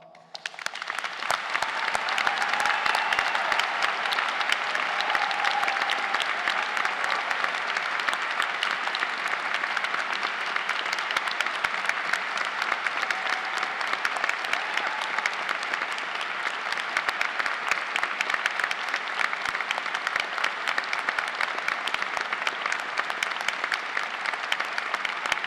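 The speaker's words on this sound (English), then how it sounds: "let us give this amazing group of people one last huge round of applause" A large audience at a university degree ceremony gives a long, sustained round of applause, dense and steady clapping that holds at full strength for over twenty seconds.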